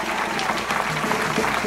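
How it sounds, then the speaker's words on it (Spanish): An audience at a Mother's Day celebration in Santo Domingo Este claps for the mothers, a continuous, full burst of applause that stays at an even level and sounds close. "Un fuerte aplauso para todas ellas."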